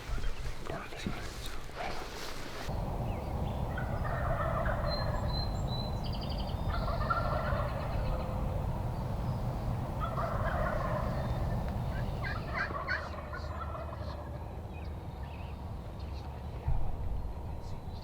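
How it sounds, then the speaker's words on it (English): A wild turkey gobbler gobbles several times at a distance in Oregon woods, the calls faint and spaced out under low steady background noise, with people whispering close by. "That's a gobbler right there. That's what you heard."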